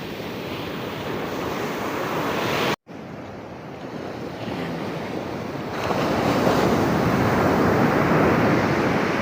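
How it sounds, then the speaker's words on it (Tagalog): Strong ocean waves crash and roar continuously, heavy surf close by with wind buffeting, briefly cut off then surging louder. "Ang lakas talaga ng alon o."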